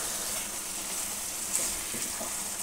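Potatoes fry for an aloo chicken karahi, giving a steady, soft sizzle close by, a continuous faint hiss with no talking.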